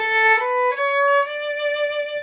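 A bowed viola plays a sustained note on its high string with a bright, clear tone, shifting pitch slightly as the bow moves, heard alone and close.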